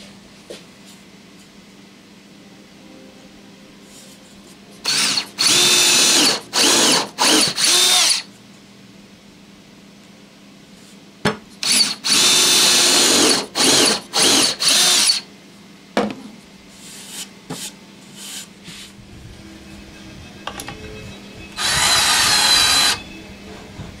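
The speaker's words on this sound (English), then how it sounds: "we'll drill a couple of pilot holes for each of these supports" A power drill bores pilot holes in wood for shelf supports in several separate loud bursts of a few seconds each, with quiet gaps and light handling clatter between them.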